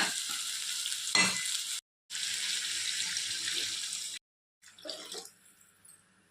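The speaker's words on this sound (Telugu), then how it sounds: "ఇప్పుడు ఇందులో వాటర్ పోయాలండి" A steady rushing pour of water into a hot pan of snail meat curry, interrupted by brief silences, then softer bubbling and sizzling at the end.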